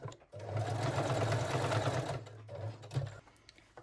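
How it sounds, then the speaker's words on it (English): A sewing machine runs a straight stitch steadily for about two seconds, locking lace panty seams, pauses briefly, then stitches again for a short burst, close and clear. "Lock the seams with a straight stitch."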